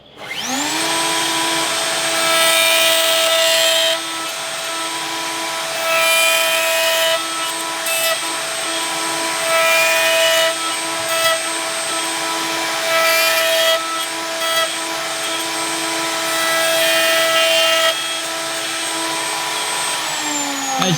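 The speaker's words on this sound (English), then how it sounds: "the bearing on the router bit needs to run against the fingers of the template all the way through" Router running a dovetail bit along a Gifkins dovetail jig template to cut dovetail joints in wood, with a loud, steady motor whine and rising and falling cutting noise as it moves through the boards.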